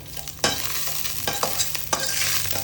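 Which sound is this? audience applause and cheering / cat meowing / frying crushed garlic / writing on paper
frying crushed garlic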